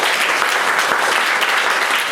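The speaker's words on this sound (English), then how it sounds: "So please clap your hand and welcome Mr." An audience claps to welcome a speaker onto the stage at a business talk in Bangkok, a dense burst of steady applause, loud and close.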